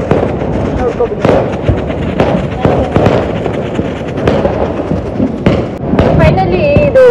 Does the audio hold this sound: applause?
no